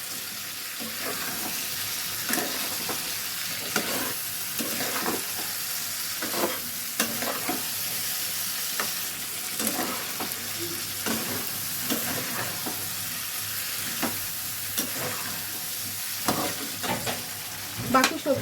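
Vegetables are stirred and fried in a pan, a steady loud sizzle running throughout with repeated spatula strokes scraping the pan at a regular pace.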